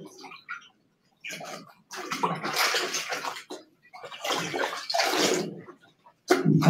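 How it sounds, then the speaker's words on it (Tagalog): Water runs and splashes in bursts during laundry at home, loud and close, with short pauses between pours and a faint voice at the start. "Pakinggan nyo na lang yung tubig."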